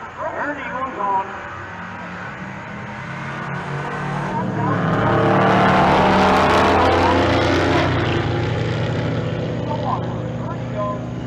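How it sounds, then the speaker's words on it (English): Drag race cars at Pueblo Motorsports Park launch and scream down the strip, building to a loud roaring peak mid-clip before fading, with an announcer talking over the noise. "This ought to be a pretty good little drag race right here."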